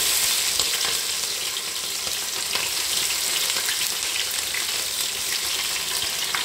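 Chopped green chillies and onions fry in a pan with a steady, close sizzle and crackle that runs without a break, with no one talking.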